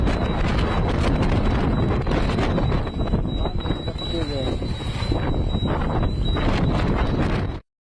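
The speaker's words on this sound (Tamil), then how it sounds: "பல்வேறு பகுதிகளில் 80 கிலோமீட்டர் வேகத்தில் சூறைக்காற்று வீசியதால்" Strong wind roars and buffets the microphone during a Delhi dust storm with gusts near 80 km/h, a loud continuous rumble with a faint steady high whine running through it, ending abruptly.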